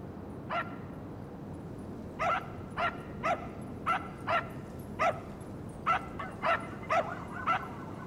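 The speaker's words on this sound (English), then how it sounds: "I hear Blackout barking with his dog." Dog barking in the GTA V video game: a run of sharp, evenly spaced barks, about a dozen over several seconds, heard alone over a steady background hum with no talk.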